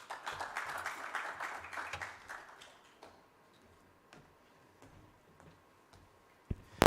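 An audience at a memorial lecture applauds, a crowd's steady clapping that fades away over about three seconds, leaving a quiet hall with a few faint taps.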